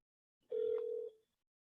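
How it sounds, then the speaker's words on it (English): A phone call ringing through to an automated meeting-search line for a Narcotics Anonymous region, heard as a single steady ringback tone of about half a second, clean and isolated in quiet. "So I'm gonna call it on my phone."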